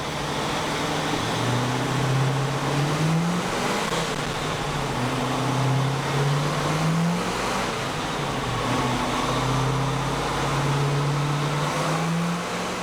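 A 1969 Pontiac Firebird with a 455 V8 runs through the gears on a chassis dyno, its engine note climbing in repeated rising sweeps as throttle changes, loud and continuous with no talk.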